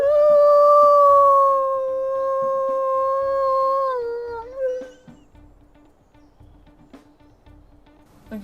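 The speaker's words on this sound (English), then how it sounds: "Okay, primary howl." A wolf in WolfQuest Anniversary Edition gives a primary howl, a single long, clear, rising-then-sustained tone lasting about five seconds before bending down and fading, followed by quiet background sounds.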